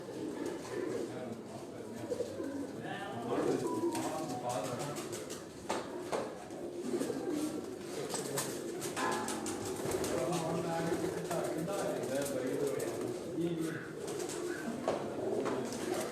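Kod Commander breed pigeons coo repeatedly at close range on a rooftop loft, overlapping soft throaty calls with occasional wing flaps, while people talk quietly in the background.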